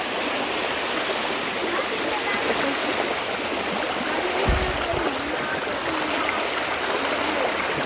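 A mountain stream flows over sharp rocks, a constant close rushing wash of water with a brief low thud midway and faint voices talking under the flow.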